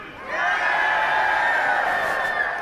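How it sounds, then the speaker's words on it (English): A St Patrick's Day parade crowd in Sligo bursts into a loud, sustained cheer of many voices that rises suddenly and holds strong for a couple of seconds. "That's a loud cheer."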